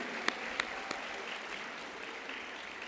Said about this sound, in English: So a round of applause, ladies.